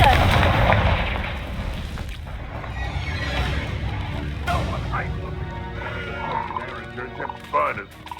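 Fiery Confringo spell blasts in Hogwarts Legacy, a sharp explosive burst followed by crackling fire, mixed with game ambience and croaky creature-like noises, with a voice calling out the spell over the action.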